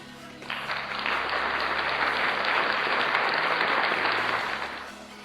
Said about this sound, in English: We've got an applause, this might be loud.